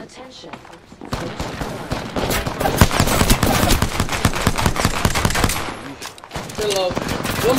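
Rapid, loud bursts of P20 pistol fire in the Apex Legends video game, a dense stream of close shots running for about five seconds before stopping abruptly.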